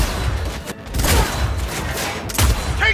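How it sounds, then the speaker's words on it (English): Gunfire from a sniper rifle in the video game Cyberpunk 2077 booms in a few heavy shots amid a dense, noisy battle mix, loud and close with no clear speech. "The sniper rifle that can shoot through walls."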